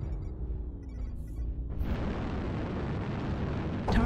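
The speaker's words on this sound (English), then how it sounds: "Artillery strike online." Artillery strike explosions in a video game, a low rumble with a faint whine that erupts partway through into a dense, loud roar of blasts, with a fresh burst at the end.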